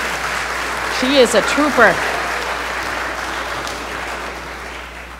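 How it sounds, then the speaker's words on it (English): A church congregation breaks into brief, scattered applause, with a voice speaking over the clapping partway through. "Yes, you may clap."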